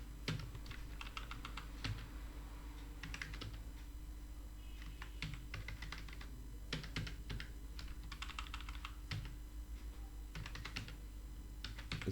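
Rapid bursts of keystrokes on a computer keyboard as item names are typed into Tally Prime accounting software, with clusters of clicks separated by short pauses, close and steady over a low background hum, with no talking.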